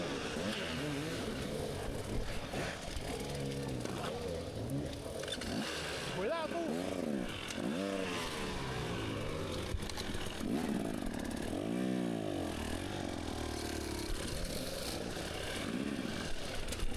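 A dirt bike is stuck in a hole during a hard enduro race qualifier. Its engine revs in repeated rising and falling bursts, close by, with voices at times over it.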